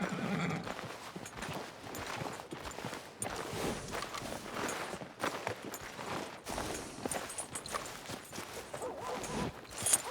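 Horse hooves clip-clop steadily in the Red Dead Redemption 2 video game, with a whinny near the start, all at moderate loudness and without talk.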